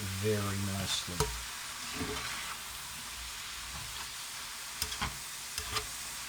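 Korean beef bulgogi sizzles and bubbles in a pan, a soft steady hiss broken by a few brief stirring clatters and small pops, with a short tonal sound near the start.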